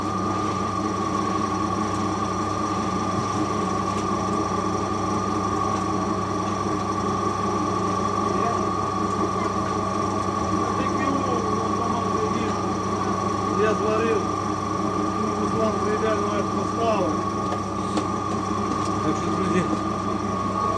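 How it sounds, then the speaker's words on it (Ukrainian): A fan running in a pig-feed processing setup, a steady droning hum with a strong tonal whine and mechanical rumble held at an even level throughout, with faint voices in the background. "І включаємо вентилятор наш, нашу туєчку."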